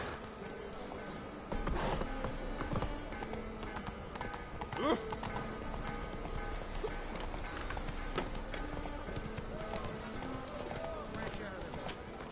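Roach, a horse in a video game, gallops with rhythmic clip-clop hoofbeats under game music and effects, with a voice talking over them.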